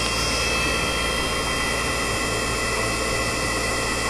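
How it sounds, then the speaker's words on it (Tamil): A Khetaan 48V 800W BLDC e-bike motor runs steadily with a smooth, even whine and broadband hum, loud and continuous throughout without any talk. "மோட்டர் பாருங்கள் எவ்வளோ ஸ்மூத்தாக ஓடிட்டு இருக்குன்ட்டு."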